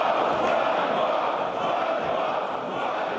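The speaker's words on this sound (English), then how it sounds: "The opposition booing the parliament's refusal to allow Tymoshenko to get medical treatment abroad" Parliamentary opposition crowd in the Ukrainian parliament in Kiev booing loudly and steadily, a dense continuous roar of many voices with no breaks.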